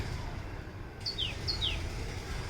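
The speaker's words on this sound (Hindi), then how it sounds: "ये पक्षियों का चहचहाना," A few quick, high bird chirps ring out in pairs over steady outdoor background noise in a flower valley garden in Jodhpur, Rajasthan, India, moderately faint and close together.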